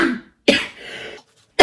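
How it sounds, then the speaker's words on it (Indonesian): A person gives a dry cough in several short, sharp bursts close to the microphone, with a rough, throat-clearing quality in between. "satu minggu ini kadang-kadang batuk kering gitu"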